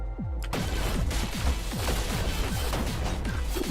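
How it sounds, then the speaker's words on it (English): Video game explosions boom in a rapid series of heavy blasts and crashes, loud and dense for several seconds, with no speech. "Oh, the explosion's throwing me away."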